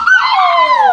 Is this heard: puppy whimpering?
yes